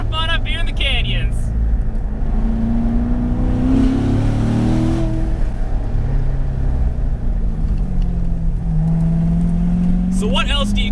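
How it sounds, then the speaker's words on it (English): A 2018 Corvette Grand Sport with a naturally aspirated LT1 engine and seven-speed manual drives through canyons, its engine droning steadily and rising and falling in pitch with shifts, while someone talks over it at the start and end. "So you have the naturally aspirated LT1 engine, and in this case, the excellent 7-speed manual transmission"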